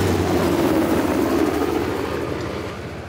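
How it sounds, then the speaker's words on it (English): Helicopter in the video game Uncharted: The Lost Legacy, producing a loud continuous rotor and engine drone with a fast beating flutter that eases slightly toward the end, with no talking. "How the hell did Asav get that helicopter?"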